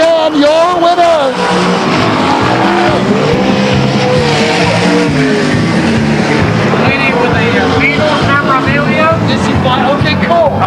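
Race cars roar to the checkered flag at Stockton 99 Speedway in 1999, with loud, continuous engine noise and shifting pitch as they pass, under an announcer's excited commentary.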